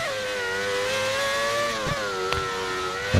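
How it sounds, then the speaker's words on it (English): A high-pitched Formula 1 V10 engine in the video game F1 2013 wails steadily, its pitch dipping briefly during gear shifts, with a couple of short bumps near the end. "at least I can hear the V10 engine. Sounds good. I miss this sound."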